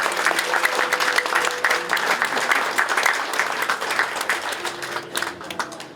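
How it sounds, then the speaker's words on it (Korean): Congregation at a thanksgiving service opening the Ju Gi-cheol memorial hall breaks into warm, continuous applause, a dense patter of many hands holding steady over six seconds, with faint voices beneath. "큰 박수로 군을 위해서 더 열심히 일해 주시라는 마음으로 격려의 박수 드리겠습니다"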